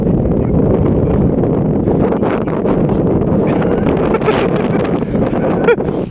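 Strong wind sweeps across a frozen lake during winter ice fishing, a loud, constant roar and buffeting against the microphone that runs without a break.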